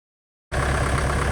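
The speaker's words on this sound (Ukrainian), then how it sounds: "Демонструю вам звук роботи двигуна та сигнали." Engine of a KENTAVR 404 SDC tractor with cab starts up after a brief silence and then runs in a steady, close, even drone.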